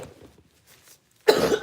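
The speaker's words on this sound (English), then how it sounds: "I don't want to cough over this." One sharp, close cough bursts out after a moment of near silence, preceded by faint indistinct sounds.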